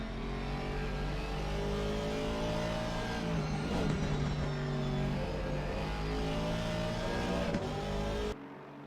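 Ferrari and Aston Martin GT race cars roar in Assetto Corsa Competizione at Brands Hatch, a loud, steady engine drone with rising revs and gear shifts, ending abruptly near the close.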